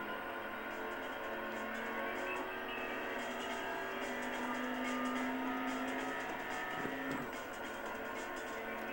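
A car in the racing video game Import Tuner Challenge accelerates away, a steady engine drone with a rising tone and a brief screech, heard faintly and continuously.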